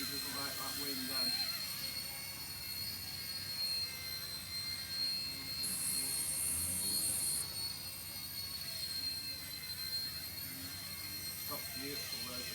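An RC-ERA C138 PRO radio-controlled helicopter flying in wind gives a steady high whine with tonal hum, close and continuous, under gusty wind noise and occasional speech.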